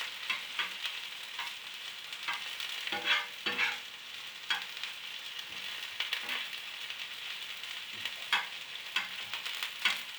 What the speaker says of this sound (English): keep doing this, yeah, until it gets a bit slightly crispy, like the onion become a bit crispy like that